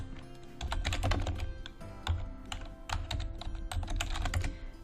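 A computer keyboard is typed on steadily at close range in quick, uneven bursts of crisp key clicks, as a job title is entered for a LinkedIn search, with no speech.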